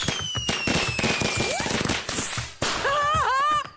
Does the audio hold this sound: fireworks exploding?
yes